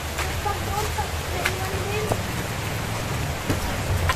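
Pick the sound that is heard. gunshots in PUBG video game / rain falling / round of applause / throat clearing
rain falling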